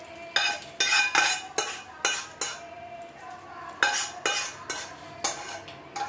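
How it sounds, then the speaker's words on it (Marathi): Mathura peda mixture scraped from a kadhai onto a plate, a run of loud, close metal scrapes and clinks in two bursts with a short lull between, no talking. "तर प्लेटमध्ये काढून घेऊया आता"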